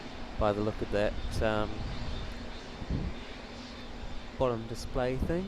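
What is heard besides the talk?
Malaysia Airlines airliner taxiing at Auckland Airport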